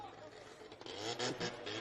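A worn-sounding rotary-engine car drones past at close range, its rough note rising and swelling toward the end, with background noise throughout.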